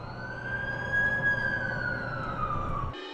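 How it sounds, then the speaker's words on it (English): Ambulance siren in The Amazing Spider-Man 2 video game wailing loud and close in a long sustained tone over low rumble, cutting off abruptly near the end. "That's the ambulance I called."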